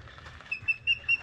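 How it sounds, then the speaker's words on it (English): Thin, high whistled calls from an osprey repeat four times in short bursts over faint low background noise, calling from nearby. "Common sounds of an osprey."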